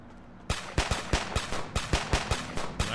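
Fireworks crackle and bang in the streets of the video game GTA 5 on the Fourth of July, a rapid run of about a dozen sharp, loud reports following each other closely over a low steady hum.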